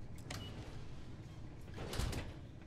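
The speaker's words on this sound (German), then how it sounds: "Hier machen wir einen Knopf an, da geht da eine Tür auf und da eine Tür zu" A spaceship door in Starfield slides open and then another slides shut, two soft whooshing mechanical sweeps over a low background hum, the second louder and heavier.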